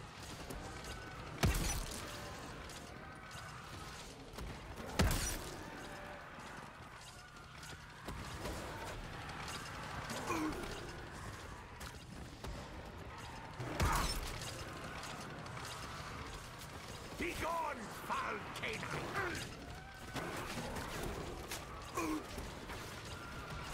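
A Pack-a-Punch machine running in a Black Ops 3 custom zombies map, Bowser's Castle, gives a steady mechanical whirring and creaking drone, with several sharp clanks and thumps breaking through over about twenty seconds.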